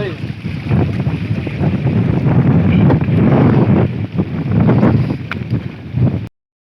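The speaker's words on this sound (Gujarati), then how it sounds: "ફૂલ પવન" Strong, continuous wind buffets the microphone on Girnar mountain during the monsoon, a loud steady roar with gusty surges.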